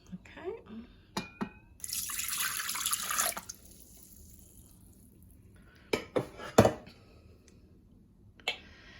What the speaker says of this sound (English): Place the reserved pineapple juice into the bowl.